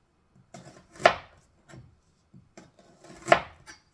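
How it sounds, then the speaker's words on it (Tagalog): A knife slicing a white onion on a cutting board, a handful of soft cuts and two sharper chops in an irregular rhythm, close and quiet, with no talking. "Ang gagawin ko sa white onion is pag ganyan na hiwa."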